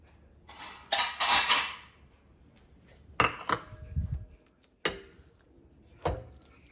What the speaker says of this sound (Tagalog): kukuha na tayo ng pinggan